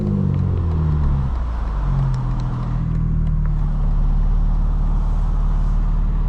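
A 2025 BMW M4 Competition xDrive cruising on the road at sunset, a deep continuous engine hum with gentle shifts in pitch as it pulls, heard steadily from inside the car.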